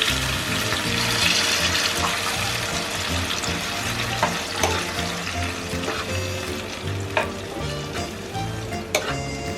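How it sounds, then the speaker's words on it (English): Ridge gourd frying in a pan for an Assamese dish, a steady close sizzle and crackle throughout, with occasional light clinks and scrapes of stirring. "Fry it for some time."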